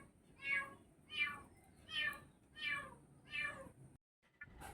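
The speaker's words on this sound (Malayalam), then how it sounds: "ഷിഹാബ് ഇതിന് മുമ്പ് നമുക്ക് ഇതുപോലെ തന്നെ കിണറിൽ പൂച്ച വീണ ആ സമയത്ത് എടുത്തു തന്നിനി." A cat meows five times in an even rhythm after falling into a well, each cry loud and close, followed by a short silence and faint rustling.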